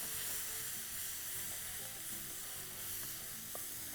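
Chili and turmeric powder are stirred into a frying mixture, which sizzles and crackles steadily in the pan with faint scraping from the stirring.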